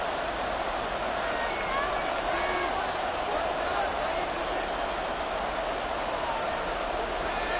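Stadium crowd noise in a football video game at a 49ers at Steelers matchup, a dense continuous roar of cheering and babble, loud and steady throughout.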